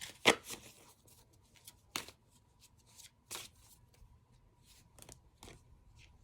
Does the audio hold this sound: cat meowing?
no